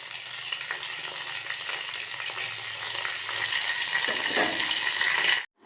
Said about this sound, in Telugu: దీనిలో ఎండుమిరపకాయలు, వెల్లుల్లి రెబ్బలు, కరివేపాకు, తాలింపు గింజలు వేసి వేయించుకోవాలి